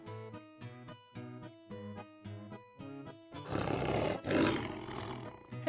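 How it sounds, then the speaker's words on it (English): A big lion roars in a children's cartoon, preceded by a bouncy tonal musical pattern; the roar bursts in loud and rough near the end and stands alone without talk. "Hey, Danny, you sound like a big, scary lion."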